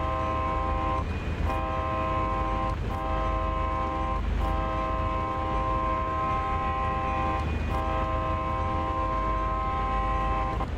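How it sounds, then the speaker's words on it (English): Locomotive horn sounding a sequence of long and short blasts at a level crossing in the Train Sim World video game, loud and close over a constant low rumble of the train running. "Here comes a crossing, sound the horn."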